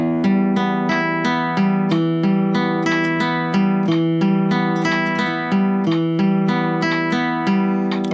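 A guitar plays a steady fingerpicked arpeggio with three even notes to each beat, the plucked notes ringing over a sustained low chord, close and moderately loud, with no voice.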